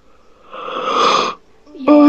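A person yawns once, a long breathy drawn-out yawn lasting under a second, close and fairly loud, followed by a brief voiced sound from someone in a gaming chat.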